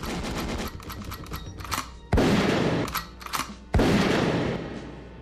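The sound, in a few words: gunshots sound effect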